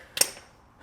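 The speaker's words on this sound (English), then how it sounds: "Click." A single sharp, brief click of a torque wrench reaching its set torque during car repair work, close and isolated against a quiet background.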